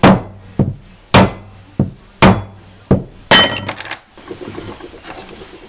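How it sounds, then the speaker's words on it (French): A hammer strikes a screwdriver driven into the crankshaft oil seal of a 2000 BMW 530d E39 engine, six sharp metallic taps in an uneven rhythm, close and loud, then a rattling scrape as the seal shifts. "pour l'extraire c'est simple, hein, on prend un tournevis, un marteau, on tape ici dans l'angle"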